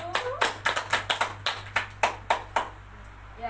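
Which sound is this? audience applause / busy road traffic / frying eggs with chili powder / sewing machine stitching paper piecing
audience applause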